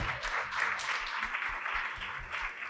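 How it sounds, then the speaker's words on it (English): Steady applause from an audience, many hands clapping in a continuous, moderately loud wash for a few seconds. "give yourselves a warm round of applause"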